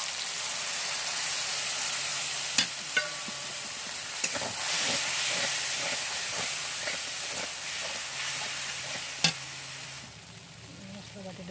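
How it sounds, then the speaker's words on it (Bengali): Spice paste going into a tilapia fish curry with cauliflower in a hot pan, a steady sizzle and hiss of frying with stirring scrapes and a few sharp clinks, close and continuous. "পেস্ট করে রাখা মশলাটা দিয়ে দিচ্ছি এখন।"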